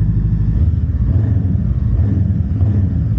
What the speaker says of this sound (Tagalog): Rep natin guys. Rep natin.